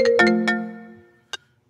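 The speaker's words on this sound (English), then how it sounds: "Quit calling my phone." Phone ringtone playing a quick run of bright melodic tones that ring out and fade, then one short blip near the end, close and fairly loud with no talking.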